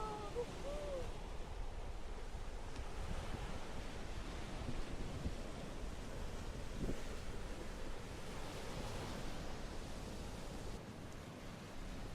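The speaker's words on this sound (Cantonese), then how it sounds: "實在太靚嘅海浪啊！" Ocean surf rolls onto the shore near the Meoto Iwa wedded rocks and a white torii gate in Kyushu, Japan, a steady, low, continuous roar mixed with wind buffeting the microphone.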